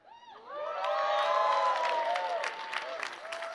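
A crowd bursts into cheering and applause with whoops and shouts, swelling quickly and staying loud before easing slightly.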